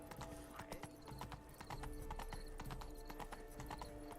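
Rhythmic, fairly close clip-clop of a horse trotting in The Witcher 3: Wild Hunt, steady hoofbeats continuing alone without talk.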